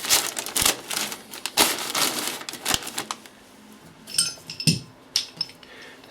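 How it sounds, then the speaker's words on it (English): A plastic bag crinkles and crackles in irregular bursts as it is folded into a basin behind a home radiator being drained, close and fairly loud, with no talking. "Plastic bag in behind, fold it into the basin."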